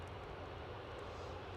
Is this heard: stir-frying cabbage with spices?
no